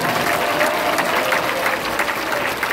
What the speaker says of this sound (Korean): 멋진 말씀이신 우리 장학일 총재님께 뜨거운 박수를 보내십니다